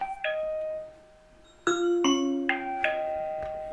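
Chime tones from a Tuya smart Wi-Fi video doorbell played through an Echo Show, with several clear ding-dong notes struck in succession, the bright tones overlapping and ringing out close and loud with no talking.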